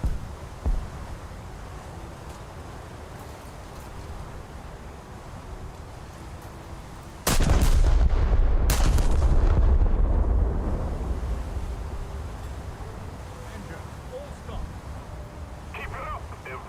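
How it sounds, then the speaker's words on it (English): A battleship's salvo of naval gunfire in a blue-water naval video game, erupting as a sudden loud, sustained boom with a second blast close behind, then rumbling on and fading out. "One more good battleship salvo."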